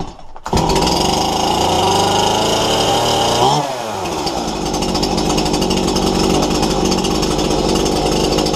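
A Stihl MS181 chainsaw that is running poorly and needs tuning starts up and idles loudly and steadily while warming up. The engine's pitch shifts once early on, then it settles into a constant close rumble with no talking.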